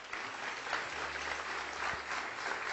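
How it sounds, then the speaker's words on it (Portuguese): A church congregation at an evangelical service applauds steadily, a dense wash of many hands clapping together throughout, with no voices rising above it. "E vamos aplaudir ao Senhor."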